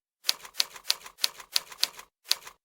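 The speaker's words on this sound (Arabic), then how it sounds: "علشان تسمع صوت التكات الجميله كده اللي بتسمعها لما بتضغط على الكيبورد" Keyboard typing on a touch-typing practice website produces seven crisp, sharp clicks in an even, steady rhythm, each clear and isolated against silence, close and moderately loud.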